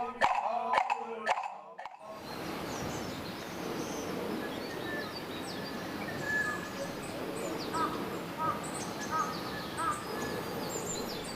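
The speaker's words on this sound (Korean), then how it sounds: "다시 고요해진 산사를 가득 채운 건 새들의 합창 소리입니다." Several birds sing and call in a chorus around a quiet mountain temple, with varied chirps and caws over a soft, steady outdoor background after a few sharp wooden knocks at the start.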